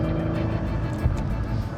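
A twelve-cylinder car drives along with a steady, dense engine drone and road rumble, heard briefly and fairly close, with no voices.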